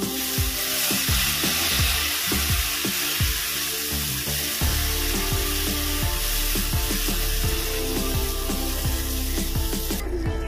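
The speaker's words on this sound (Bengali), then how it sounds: "আমি এর মধ্যে দেব কাজু কিশমিশ বাটা। এটা ভালো করে কষিয়ে নেব।" Masala with cashew-raisin paste fries in a pan for a jackfruit kofta curry, a loud continuous sizzle with repeated scraping strokes of a stirring spoon through the first half.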